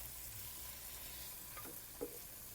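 Tomatoes frying with alamang shrimp paste get stirred in a pan: a quiet, steady sizzle with a couple of soft utensil scrapes near the end.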